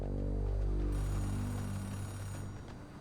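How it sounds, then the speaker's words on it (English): A payphone rings inside the game Oxenfree 2, an electronic bell tone with layered buzzing harmonics that holds steady, then fades gradually toward the end, heard alone without voices. "or that is a phone ringing, somewhere."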